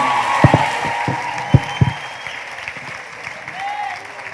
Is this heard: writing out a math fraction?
no